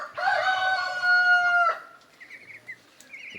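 A nearby chicken lets out one long, loud crowing call, followed by quieter scattered bird calls and farmyard noises from chickens, ducks and turkeys on a small farm.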